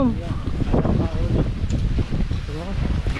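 Strong wind off a choppy sea buffets the microphone with a rough, gusty roar while people talk over it throughout, on the way to Talisay, Batangas.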